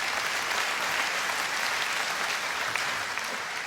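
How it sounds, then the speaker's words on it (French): A seated audience applauds steadily, a dense, even wash of many hands clapping at moderate loudness with no talk over it. "ça applaudit à droite"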